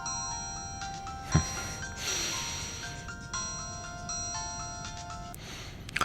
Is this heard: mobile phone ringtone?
yes